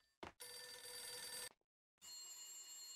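Shrill ringing of a broken telephone in the Max Payne video game, two long sustained rings separated by a brief silent gap, loud and close with no voices.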